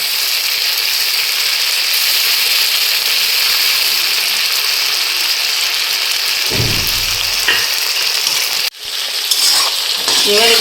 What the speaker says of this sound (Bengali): এবার আমি টমেটোটা দিচ্ছি, এটা একটু ভেজে নেব।